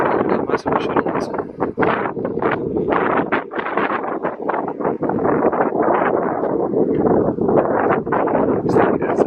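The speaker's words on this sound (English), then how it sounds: "That's how windy it is out here right now." Strong wind buffets the microphone outdoors at Rocket Park, Johnson Space Center, a loud, steady roar broken by sharp gusty thumps, continuous and close throughout.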